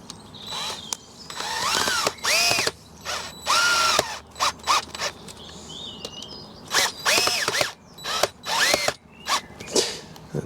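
A power drill with a screwdriver bit drives screws into sleepers while laying garden railway track, in repeated short whirring bursts that rise and cut off, separated by pauses, close by and alone.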